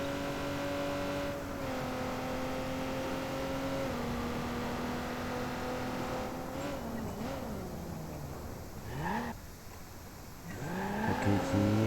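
A car drives in the video game Watch Dogs 2, its engine holding a steady hum that shifts pitch with gear changes, then breaks into sharp swooping tire squeals and skids toward the end.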